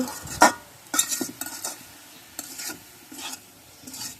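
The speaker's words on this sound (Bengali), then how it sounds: "এখন শাকটি নাড়াচাড়া দিয়ে একটু তেল দিয়ে নামিয়ে ফেলাবো" Leafy greens, including kolai shak, stirred in a pan with a little oil: soft intermittent scraping and clinking strokes at an irregular rhythm, close and fairly quiet, with no talking.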